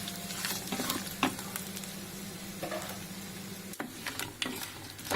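Coconut pieces with urad dal fry in hot oil for a Kerala Onam kootu curry, a soft steady sizzle broken by a few sharp spatula scrapes and taps against the pan.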